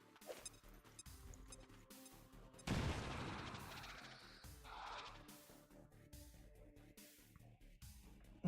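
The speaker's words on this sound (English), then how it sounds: "Let's throw a grenade then." A grenade blast in the tactical game XCOM 2, one sudden broadband explosion that fades over a couple of seconds, set among quieter clicks and faint game tones.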